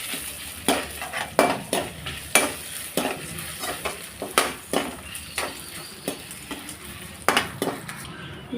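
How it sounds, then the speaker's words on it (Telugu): Dried red chilli pieces and tempering spices fry in oil in a pan for a Konaseema stuffed brinjal curry, with a spoon scraping and stirring in repeated sharp strokes over a steady soft sizzle. "ఈ పోపు ఎర్రగా వేయించుకోవాలి."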